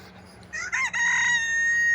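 A rooster crows once, close and loud, a drawn-out cock-a-doodle-doo rising then holding a long bright note.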